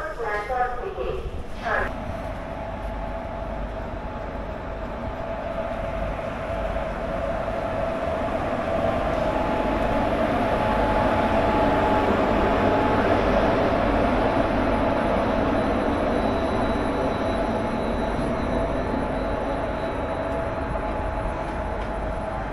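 The Asansol Digha Express, hauled by a WAG-7 electric locomotive from Asansol shed, rumbles steadily along with a continuous, loud rolling roar that swells slightly midway, and a brief clatter at the start.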